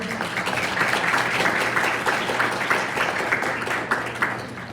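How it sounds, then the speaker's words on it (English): Applause from an audience at a Capitol Hill briefing on NSF funding and community college pathways, honoring two speakers. Dense, steady clapping holds at a moderate level throughout without pause. "With another round of applause for Representative Foster and Bear"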